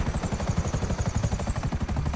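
A helicopter in the video game GTA 5 with mods gives a loud, close, rapid rotor chop. The blade thumps pulse in a fast, even rhythm throughout.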